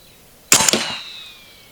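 A sharp crack and metallic clang as an AEA Select Fire 30 airgun shot strikes a steel target, followed by a long, fading ring.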